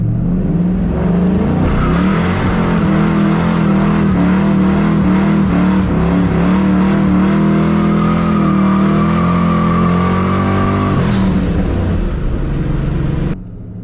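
A supercharged Mach 1 Mustang with a Procharger pulls hard in second gear, its loud engine droning and rising steadily under steady revs from inside the car for about eleven seconds before easing off.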